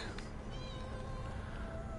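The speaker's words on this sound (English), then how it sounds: "Look at all the kitties, all the kittens." Cats and kittens in the game Elder Scrolls Online meow softly, a few thin high mews rising over a quiet ambient background.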